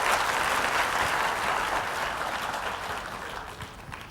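A church congregation gives sustained, hearty applause during worship, a thick, even wash of many clapping hands that gradually tapers off toward the end.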